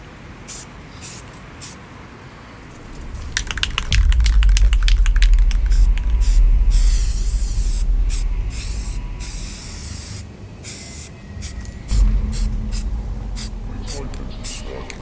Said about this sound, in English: And then I want to mist over it a little bit more as we go towards the center.